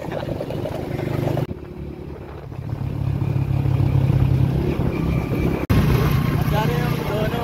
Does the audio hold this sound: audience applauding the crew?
no